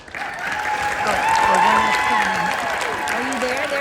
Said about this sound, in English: Please meet and give a round of applause for your amazing 18 Beauty Inclusion Council members